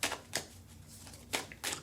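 Whispering Woods Oracle cards being shuffled, four quick papery riffling bursts spaced unevenly over about two seconds, close up and fairly quiet, with no voices.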